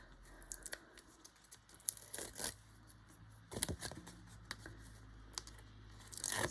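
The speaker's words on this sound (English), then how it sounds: "when I can get the foam tape off" Backing being peeled off foam tape while building a light-up card gives faint, close crinkling and tearing with scattered sharp crackles, in irregular short bursts.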